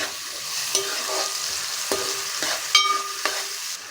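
Onion, cumin and dried red chili frying in a pan for a taro curry, stirred with a spatula: a steady sizzle broken by several sharp scrapes and clinks of the utensil against the pan.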